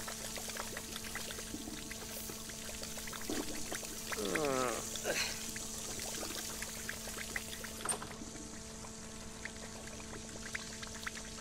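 Steady pouring water stream in a video game, a continuous trickling flow running throughout at moderate level, with brief sliding tones and clicks of game sounds over it.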